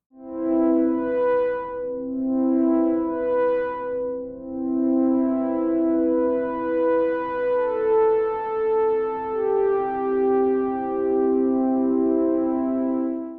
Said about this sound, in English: Let's use a sine wave shape and a very slow moving LFO.